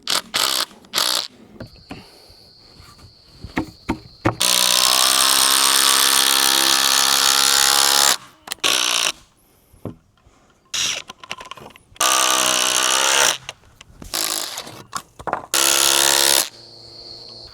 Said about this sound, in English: hence why I'm screwing these on so they don't fly off onto the ground